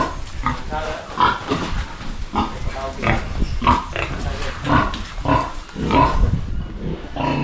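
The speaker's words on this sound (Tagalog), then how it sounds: "Mabait ang baboy natin." Pig grunting on a farm where pregnant cattle and goats are kept, with repeated short grunts close by and a person talking now and then over them.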